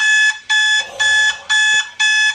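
Alarm clock ringing close and loud in five evenly spaced electronic beeping bursts with short gaps between them.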